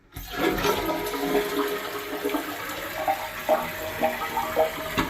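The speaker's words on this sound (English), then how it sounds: "I'll flush the toilet" A household toilet flushes close by, its full rushing gush of water swirling and draining for several seconds, then the tank begins refilling with a gurgling trickle before cutting off.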